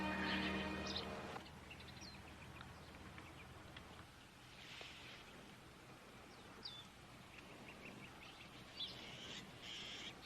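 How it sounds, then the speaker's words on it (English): Birds, including a blue jay, call and chirp beside a running stream with ducks nearby, scattered faint calls over a constant soft wash of flowing water, fairly distant and quiet, with no talk. "There's a lot of birds and ducks. There's a blue jay in this tree right here."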